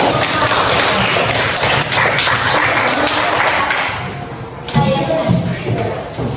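Students in a classroom give a loud burst of clapping, dense close taps and thumps with some shuffling, then fading into a quieter stretch before a brief renewed patter.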